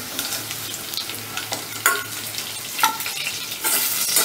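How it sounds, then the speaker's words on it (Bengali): Chunks of elephant foot yam fry in hot oil while being stirred, giving a steady close sizzle punctuated by several sharper spatula scrapes against the pan. "ওলটা আমার ভাজা হয়ে গেছে, আমি গ্যাসটাকে একটু কমিয়ে দিয়ে একে তুলে নিচ্ছি।"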